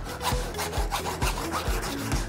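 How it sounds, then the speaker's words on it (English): Hacksaw cutting through acrylic, close rhythmic back-and-forth rasping strokes at a steady pace, with no voices. "it might be best if I just cut this thing with a hacksaw"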